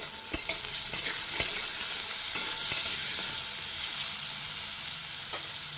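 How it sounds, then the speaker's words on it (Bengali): Potatoes seasoned with salt and turmeric sizzle steadily in a hot pan, a constant bright frying hiss broken by occasional sharp pops and spatula scrapes, close up with no voices. "আলুতে একটু নুন দিলাম আর হলুদ দিলাম, দিয়ে আলুটা আগে ভেজে নেব।"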